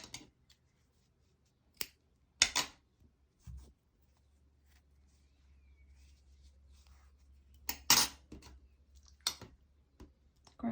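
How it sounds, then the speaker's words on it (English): Scissors snipping yarn while crocheting chunky baby booties: a few sharp, isolated clicks and snips in near silence, with a soft low hum in between. "cut a little bit of yarn"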